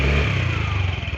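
A TVS Jupiter 125cc BS6 fuel-injected scooter engine idling close by, a steady low putter with a slight revving swell at the start.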